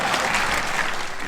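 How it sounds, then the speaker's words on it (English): A short burst of audience applause at a talk in Austin, a dense and steady wash of many hands clapping, fairly loud and with no speech over it. "Now right there, you're supposed to clap."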